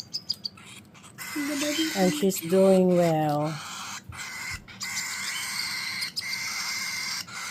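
Baby cockatiels chirp while being hand-fed, a burst of rising and falling begging squeals at close range lasting over a second, amid quieter soft peeps, with a person speaking briefly.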